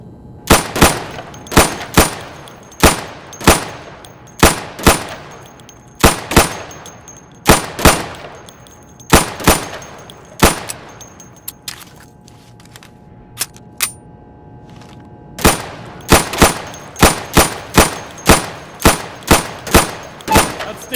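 Sharp gunshots ring out in the Insurgency video game at a firing booth aimed at targets, loud separate reports in quick strings with short pauses between volleys.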